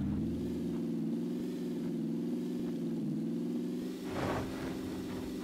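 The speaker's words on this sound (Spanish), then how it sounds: "¿Oigo un carro?" Car engine droning nearby in the battle royale game PlayerUnknown's Battlegrounds, a steady mid-pitched hum that wavers slightly in pitch, moderately faint with no talk over it.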